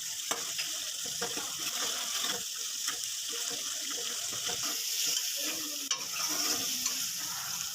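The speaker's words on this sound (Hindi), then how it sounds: "मसाले ऐड करने के बाद अब हम इसकी अच्छी तरीके से भुनाई करेंगे" Chicken liver frying with spices in a pan, a steady close sizzle with repeated scraping and stirring clicks as it is turned, loud and continuous with no talk.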